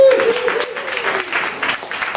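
An audience at a comedy show gives a short burst of clapping. A host's voice is heard briefly as it starts.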